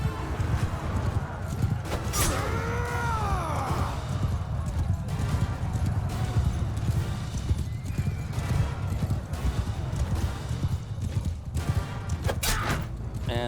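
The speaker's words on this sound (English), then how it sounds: "There's another horse." Horse hooves clip-clop steadily through a Mount & Blade II: Bannerlord battle, with a loud neigh near the start and a dense, constant din of combat noise throughout.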